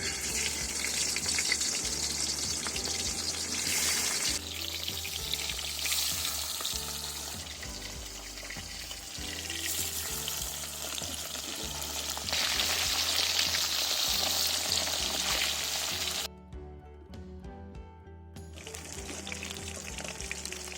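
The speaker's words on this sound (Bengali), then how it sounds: "কড়াইতে দিয়ে দিচ্ছি মাছ" Loud, continuous sizzling of pomfret frying in hot mustard oil, swelling and easing in waves, with a short, much quieter gap near the end.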